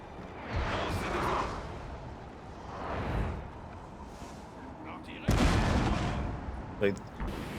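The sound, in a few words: artillery firing in Total War Napoleon video game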